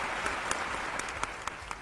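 Audience applause after a heartfelt spoken line, a steady wash of clapping from a crowd with a few sharper claps standing out, sustained throughout without any talking.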